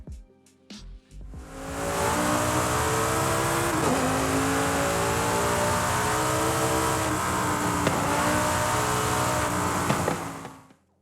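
An Audi R8 sports car engine in Forza Horizon 5 with sports exhaust drones steadily at high revs with a deep, raspy exhaust note, shifting pitch a few times before cutting off abruptly.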